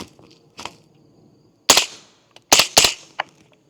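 A suppressed Extar EP9 9mm pistol-caliber carbine fires subsonic rounds at a private range: a soft clack, then three sharp, loud reports, the last two in quick succession.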